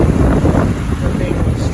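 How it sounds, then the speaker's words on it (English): Supercharged engine of a 2019 Chevrolet Camaro ZL1 running at idle, a steady close low rumble partly buried under wind buffeting the microphone. "And there is that supercharged engine."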